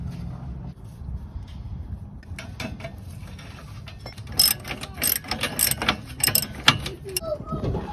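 A ratchet tightens down a trailer hitch on a Suburban, with quiet fiddling at first and then bursts of sharp, rapid clicking that grow louder and closer toward the end.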